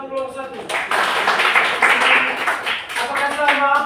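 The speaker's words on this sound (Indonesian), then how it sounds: "Tepuk tangan untuk kelompok satu." A classroom group applauds students, with scattered clapping building under a teacher speaking over it in a small indoor room.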